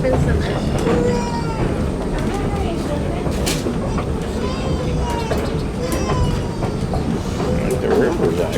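The Greenbrier Express excursion train rolls along the rails with a steady low rumble and clatter throughout, while people talk nearby over the running noise.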